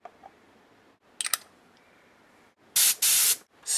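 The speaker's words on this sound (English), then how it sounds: "Start by holding the airbrush at a slight angle to the canvas." An airbrush spraying a dagger stroke onto canvas, with a few faint clicks, then two loud, close hissing bursts and a third starting at the end.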